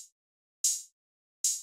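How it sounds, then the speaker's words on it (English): A quick open hi-hat in a hip-hop drum beat, sounding as bright crisp hits with short decays, three in a row and evenly spaced, panned back and forth between left and right, alone with nothing else playing. "Next thing I did is I added this quick open hat."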